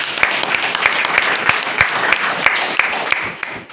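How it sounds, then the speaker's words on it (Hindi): A meeting audience breaks into hearty applause for the speakers, close and loud, with several sharp, rhythmic claps standing out over the steady clapping of the crowd. "सारे लोग के लिए एक बार जोरदार ताली बजाइए।"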